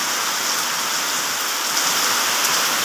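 Rain falls steadily, a dense, loud, even hiss of drops hitting surfaces close by, with no voices.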